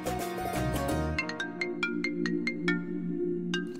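A mobile phone ringtone signals an incoming call during a Hindi TV drama scene: a repeating electronic melody of bright, evenly spaced tonal pulses rings close and clear over a soft musical background.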